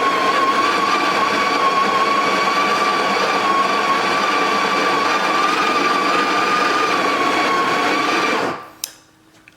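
A Breville Barista Express espresso machine pumps a shot, a loud, steady vibrating hum with a constant tone holding for about eight seconds before cutting off, followed by a faint click in near silence.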